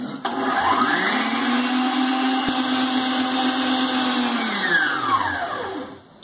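An electric stand mixer whirs steadily while beating sponge cake batter, its motor pitch rising at the start and winding down at the end, loud and close throughout.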